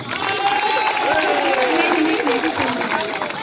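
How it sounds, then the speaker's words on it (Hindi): A crowd of advocates at a bar association protest in Dehradun claps loudly and steadily, the dense applause holding for several seconds with a few faint voices mixed in. "आपने अपने लिए एक बार जोरदार ताली बजा दें"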